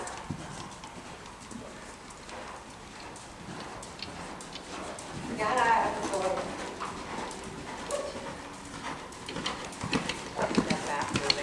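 Hooves clip-clop in a steady rhythm as a horse is ridden, near and fairly quiet, while a voice gives riding instructions throughout.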